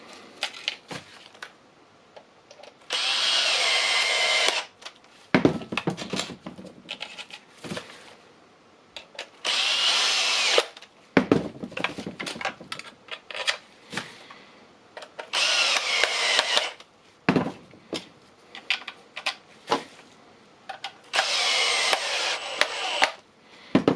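A power screwdriver tightens screws into the new plastic housing of a Dewalt 18V XR battery, several bursts of loud whirring a second or two long, separated by quieter clicks and handling noises, close up.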